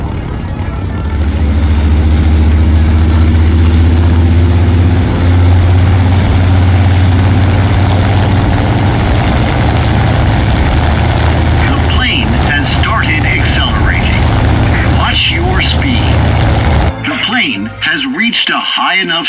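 A War Thunder aircraft's engine roars at full throttle during its takeoff run, a loud, steady low drone that builds and shifts in tone before a sudden change near the end, with a voice speaking over it.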